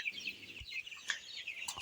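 Tiger chickens cluck softly, a handful of short, faint calls scattered over a brief moment with no talking.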